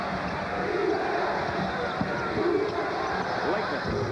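Arena crowd roars steadily after a made basket during a 1990 Duke Blue Devils at Maryland Terrapins college basketball game, a continuous loud wash of voices with no clear pauses.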